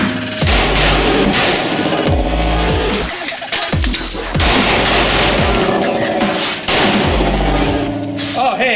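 Rapid, loud gunshots from a Taran Tactical Combat Master Glock 19 pistol, fired in quick strings with brief pauses between bursts, each shot sharp and close with ringing echo.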